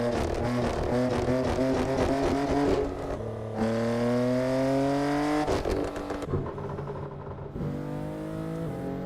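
Racing car engine from a WRC-style rally video game, revving and shifting through gears with rising and falling harmonic tones, a brief drop around three seconds, loud and continuous with no talking.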